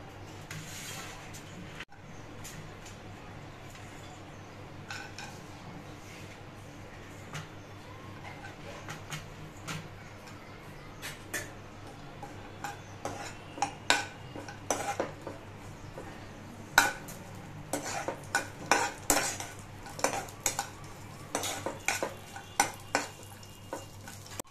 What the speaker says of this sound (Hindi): अब इसमें हम काजू बादाम ऐड कर देंगे।